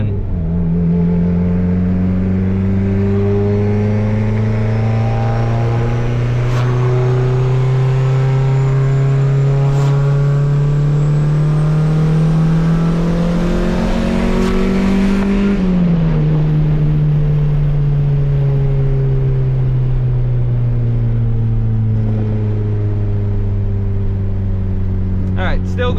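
A built, turbocharged Honda Civic D16 engine pulls hard with its boost control fixed. Its loud, close drone climbs steadily in pitch for about fifteen seconds, then drops back on the overrun and settles into a lower, wavering hum.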